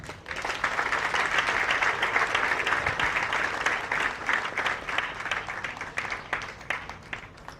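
Sustained audience applause at a sod-cutting ceremony for a medical corps building at 34 Military Hospital, a dense, steady wash of many hands clapping that holds for several seconds before thinning into scattered claps near the end.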